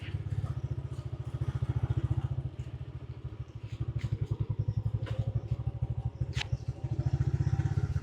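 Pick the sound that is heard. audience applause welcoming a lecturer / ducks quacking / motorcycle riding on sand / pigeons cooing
motorcycle riding on sand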